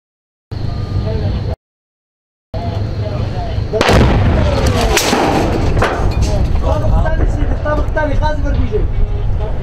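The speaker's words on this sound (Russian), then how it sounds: "Еще один выстрел без откатки мимо." An RPG grenade launcher fires at a clearing tank near a bus station in Syria, giving a loud blast followed by a rumbling, echoing roar amid surrounding noise, after a brief silent gap.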